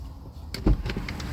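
A single solid thunk of a Renault Megane E-Tech door shutting, close and short, followed by faint rattles and settling sounds.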